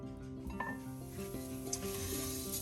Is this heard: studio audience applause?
no